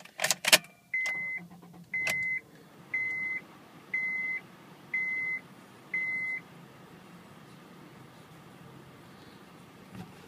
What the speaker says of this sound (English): I like to turn a car off and turn it back on